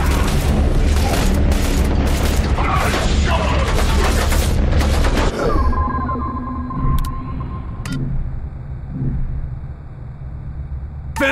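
Gunfire in the video game The Bureau: XCOM Declassified, with dense, loud bursts of shots and booms over about five seconds, then a quieter tail with tones, rumble and a few isolated shots.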